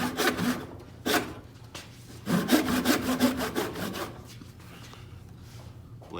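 A hand saw cuts through wood for a bookshelf in several separate bursts of rasping strokes, loud and close, with brief pauses between the runs of sawing.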